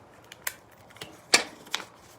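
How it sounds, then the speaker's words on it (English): Pieces of tape pulled off a roll for a paper balloon dinosaur craft, heard as a few sharp, brief ripping and crackling bursts, close and fairly loud against a quiet room. "I take two pieces of tape"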